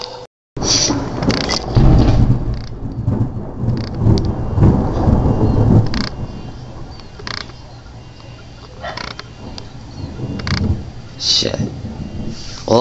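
A thunderstorm with rolling thunder and rain: deep, loud rumbles swell and fade over steady rainfall, with sharper cracks scattered through, and a person talks intermittently over it.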